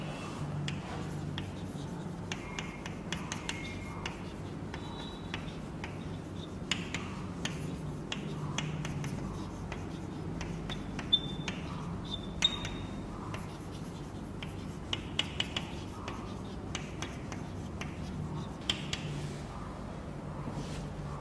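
Chalk or marker writing on a board in a classroom lesson, a steady run of soft taps, scratches and strokes over a low room hum, with occasional faint speech.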